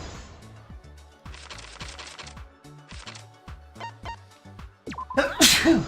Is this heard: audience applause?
no